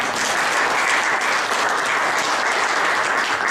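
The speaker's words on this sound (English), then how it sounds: "let's give Louis a round of applause" An audience at a Toastmasters club meeting applauds steadily, a dense, even patter of clapping that holds at full strength throughout with no voices over it.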